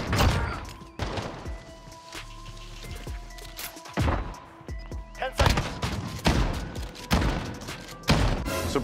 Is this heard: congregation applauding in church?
no